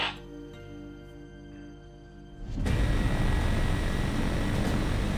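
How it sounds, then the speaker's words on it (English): A Lockheed Electra propeller airliner on approach to a runway for a hard landing with missing landing gear, its engine drone rising suddenly from a quieter hum into a loud, steady roar that fills the rest of the moment. "Ray will have to bring the Electra down hard and fast and then take off as soon as he hits the runway"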